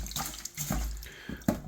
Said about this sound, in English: So just start off by washing the rice.